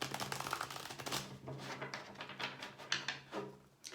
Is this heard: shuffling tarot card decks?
yes